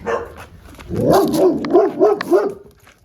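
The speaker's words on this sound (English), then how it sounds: "I gotta make sure that little dog is not there." Small dog barking outdoors, a close, loud run of five or six rapid yappy barks in an uneven rhythm.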